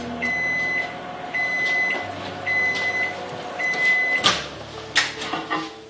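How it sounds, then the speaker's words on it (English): A microwave oven heating burritos hums steadily while repeated short beeps sound at even intervals, followed by a few clunks like a door or cupboard closing. "each burrito equals 1 minute in the microwave"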